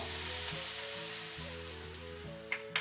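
Caramel sizzles steadily in a pan as a dash of lemon juice goes in. A continuous hiss runs throughout, with a low cooking hum underneath and a couple of brief crackles near the end. No one speaks.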